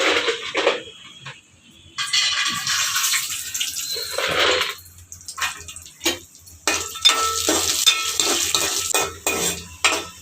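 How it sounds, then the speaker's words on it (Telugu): Cashew nuts fry in a pan for bagara rice and paneer curry in a home kitchen, a steady hissing sizzle broken by scraping and clinking as a spoon stirs them, close and fairly loud. "జీడిపప్పులు అయితే వేయించుకుంటున్నానండి"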